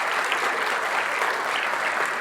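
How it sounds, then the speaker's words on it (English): An audience at a high school winter band and chorus concert gives a round of applause, an even, steady patter of many hands clapping at moderate distance without a break. "Big round of applause"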